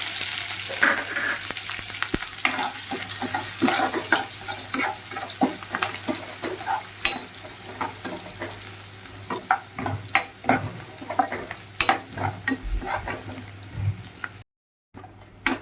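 Cumin, asafoetida and chopped onion frying in hot oil for an Amritsari paneer bhurji, a steady close sizzle broken by frequent stirring scrapes and clacks, with no talking.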